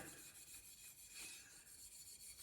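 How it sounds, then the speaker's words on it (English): Steel wool rubbed briskly over a vintage Schwinn bicycle part, a faint, continuous scratchy scrubbing close by, with no talking. "I'm just putting some steel wool on there."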